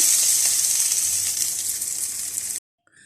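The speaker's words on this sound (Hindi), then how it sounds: "मज़ीद मैं कबाबों को डालकर फ्राई कर लूँगी।" Malai seekh kebabs fry in a pan with a bright, steady hissing sizzle that fades slightly, then cuts off abruptly near the end, followed by a faint brief crackle.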